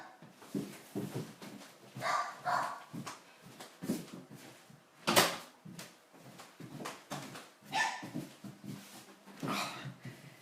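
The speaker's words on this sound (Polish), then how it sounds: "szczeka niejaki Gutek, ale mam nadzieję, że zaraz się uspokoi" A dog makes soft, intermittent barks and whimpering yips at low volume, several short bursts spaced irregularly, sounding somewhat distant or muffled.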